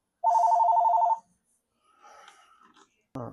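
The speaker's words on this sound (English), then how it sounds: "As you hear, my phone was ringing" A mobile phone rings once with a short, buzzy trilling ring lasting about a second, close and clear. Faint muffled sounds and a brief thump follow.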